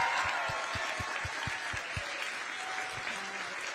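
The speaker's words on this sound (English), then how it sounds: "let's give them another round of applause." Crowd applause at a Kamala Harris campaign event with Liz Cheney in Pennsylvania, a dense steady wash of clapping that carries on for the whole stretch with a few louder individual claps near the start.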